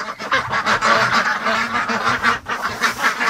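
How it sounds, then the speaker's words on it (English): A bunch of ducks quack loudly and close by in a free-range poultry setting, with overlapping, repeated calls and no gaps through the whole stretch. "there's a whole bunch of ducks in here"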